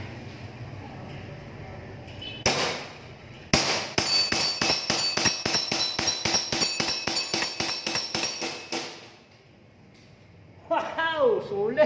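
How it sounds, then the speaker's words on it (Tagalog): Newly built airsoft gun fires at round targets in a rapid string of sharp, close clicks and pellet impacts, with a couple of single shots before it and someone speaking at the end. "airsoft lang po ito, hindi po itong baril ito"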